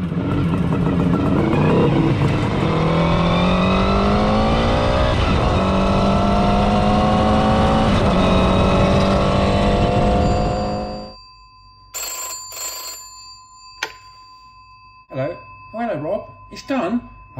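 A Kawasaki S2 motorcycle, a 350 triple two-stroke, rides along loud and close with a rising and falling engine note and gear changes for about eleven seconds, then cuts off, leaving quiet background with brief tones and scattered sounds.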